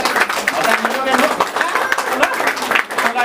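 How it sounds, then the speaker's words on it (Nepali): Church congregation at a Nepali Christian wedding clapping together, fast continuous applause filling the room close by, with voices mixed in underneath. "हामी सबैजनाले जोरदारसँग हामी ताली बजाइराख्नेछौँ यो समयमा"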